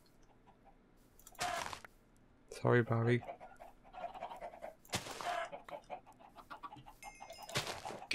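Chickens cluck in the Minecraft video game in short scattered bursts alongside game footsteps and effects, while someone talks briefly in the middle.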